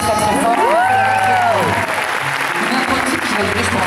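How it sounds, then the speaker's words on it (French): Concert audience at a one-man show at Salle Pleyel applauding loudly and steadily, a dense wash of clapping and crowd noise with some cheering and voices over held musical tones. "je vous présente Philippe, qu'on peut applaudir très très fort."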